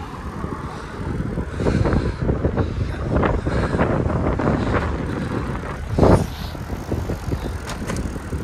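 Wind buffets the microphone during a gravel bike ride through village back roads, loud gusty rushing and crackle mixed with tire rattle on loose gravel, swelling in bursts throughout.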